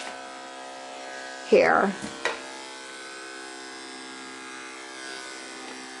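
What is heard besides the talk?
electric dog clippers with 5/8 blade trimming hair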